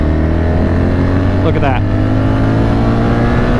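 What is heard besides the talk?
car accelerating at full throttle in fifth gear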